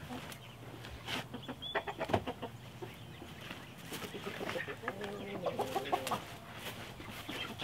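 Several chickens cluck and chatter close by in a busy, overlapping stream of short calls, with faint rustling underneath.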